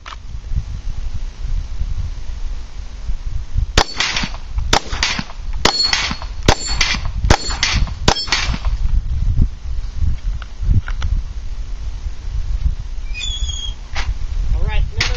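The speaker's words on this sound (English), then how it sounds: "So you guys are going to see some shooting here." Glock 19 Gen 4 pistol firing a quick string of about eight sharp, loud shots in steady rhythm, followed by quieter clatter and rustling, with someone talking at the start and end.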